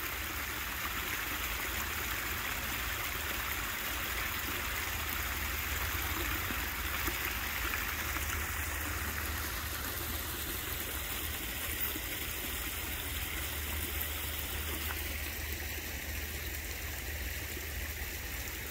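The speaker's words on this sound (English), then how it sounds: "Look how that water flows." A steady wash of flowing stream water runs evenly throughout, calm and unbroken, with no voices.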